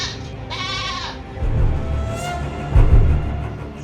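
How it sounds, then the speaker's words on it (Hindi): A stolen goat bleats in a few drawn-out, wavering cries, close and fairly clear, with faint low background rumble and no talk over it. "ये तो मेरा बकरा है जो तुम लोगों ने चोरी कर रखा है।"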